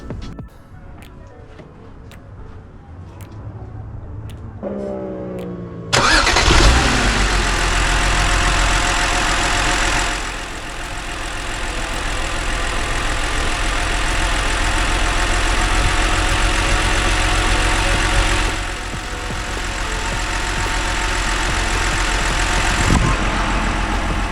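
BMW 128i engine cranking and catching after new spark plugs, then settling into a loud, steady idle close to the microphone with slight swells in revs.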